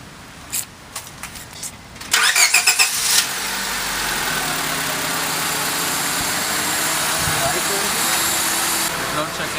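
Keys jingle before a 2003 Honda Civic LX with a newly fitted cold air intake cranks briefly and fires. The engine then settles into a steady, even idle.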